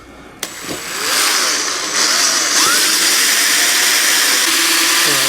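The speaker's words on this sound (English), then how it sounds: "One of these drills, they're pretty darn good. They drill fast, they drill circles." A power drill fitted with a hole saw whirs up and runs steadily at high speed, a continuous loud grinding whine as it cuts through wood, after a brief click at the start.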